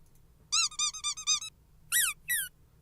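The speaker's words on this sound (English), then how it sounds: "can we have the Toy Squeak sound be in there" A rubber squeaky toy sound effect: a quick run of six sharp high squeaks, a short pause, then two longer bent squeaks, each loud and close against near silence.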